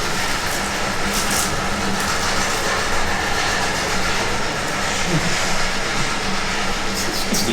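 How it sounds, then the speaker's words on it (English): A loud, steady rumble of a train rolling past close by, with rhythmic clattering and a faint voice underneath. "Steam train or locomotive."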